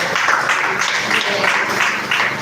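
Audience clapping during a live online academy session, a dense, steady wash of applause holding at an even level throughout with no clear speech over it.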